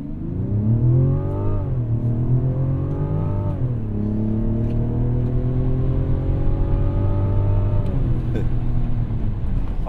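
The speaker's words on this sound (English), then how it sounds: "So now that we're here, let's do a standstill from 0." A 2024 Mazda CX-90 accelerates from a standstill, its engine note climbing through several gear changes with a smooth, steady drone heard from inside the cabin.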